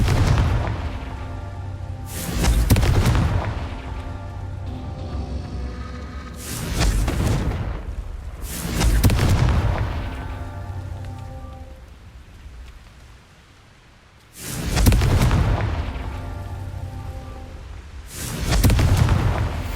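Confringo fire spell explosions in the Hogwarts Legacy video game: loud booming blasts land every few seconds, each followed by a rumbling, crackling decay between hits.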